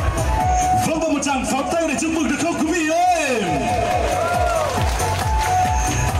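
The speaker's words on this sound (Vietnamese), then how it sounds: "Vâng, và một tràng pháo tay để chúc mừng được không quý vị ơi?" Wedding guests applaud and cheer in a crowded reception hall at a village celebration in Thuận Châu, Sơn La, with a loud, steady wash of clapping and crowd babble while an announcer's voice carries over it.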